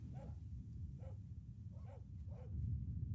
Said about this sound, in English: The barks of guards becoming clearer